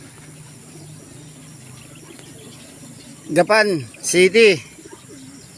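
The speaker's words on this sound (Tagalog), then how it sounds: "Ayan mga ibon natin" Two short rounds of soft, throaty pigeon cooing close by, over quiet outdoor background hiss, with a brief voice at the start.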